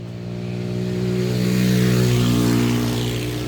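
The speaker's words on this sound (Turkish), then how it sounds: "Vırıl vırıl arabalar geçiyor Kadir yenge" A car engine on a village road grows louder and holds steady as a vehicle passes close by, its hum rising over about three seconds with no voices.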